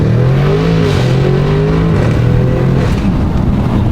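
A tuned Audi RS7 with a Unitronic Stage 3+ upgrade, engine warm, accelerates hard from inside the car, its loud engine note rising steadily through the revs as a continuous roar.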